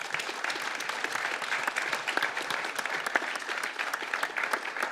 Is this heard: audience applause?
yes